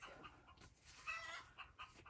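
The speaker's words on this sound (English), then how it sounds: "The chickens are obviously excited about something" Several backyard chickens cluck excitedly and steadily at low volume, a little distant, with no one talking over them.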